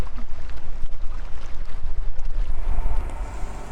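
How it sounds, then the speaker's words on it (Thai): Wind blowing at Lam Takhong dam in Thailand, steady loud rushing and buffeting against the microphone, with rumbling gusts that swell toward the end. "ลมพัดเย็นมากครับ"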